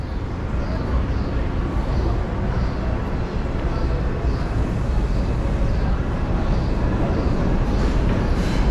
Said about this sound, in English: the train's going back to Manhattan